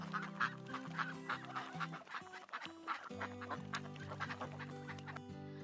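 A noisy poultry yard of honking geese and quacking ducks, the cackling calls overlapping constantly with a soft musical backing beneath.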